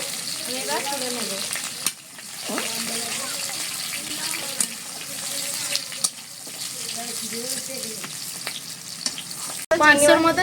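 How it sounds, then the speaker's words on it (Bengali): Prawns fry in hot oil with a steady sizzle running throughout, broken by stirring clatter, and a sharp, loud burst of spattering near the end. "চিংড়ি মাছগুলো ভেজে নিচ্ছি।"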